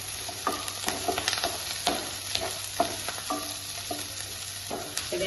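Dried red chilli, curry leaves and cashews sizzling in hot oil in a pan for upma, with a spoon stirring and scraping in repeated strokes over a constant fry hiss.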